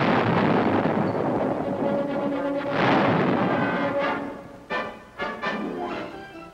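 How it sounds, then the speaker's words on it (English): Vietnam War artillery fire at Dak To in 1968 rumbles as a long, heavy roar of explosions, followed by several sharp booming blasts near the end, loud and close with no voices. "And artillery fire."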